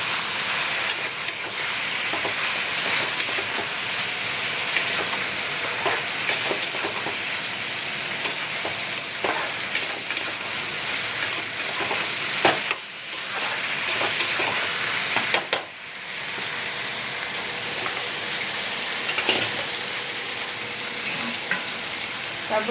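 Cumin powder goes into food frying in a pan and is stirred; steady close hiss and sizzle of hot oil runs throughout, with occasional scraping clicks from the stirring and brief dips in the frying noise.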